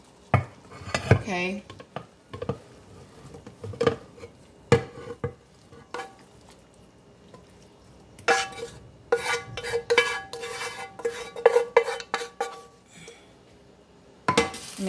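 Banana heart salad with coconut milk tipped into a pan and stirred, with clustered clinks and clatters of utensil on metal in bursts, close and fairly loud; a voice speaks briefly at the start.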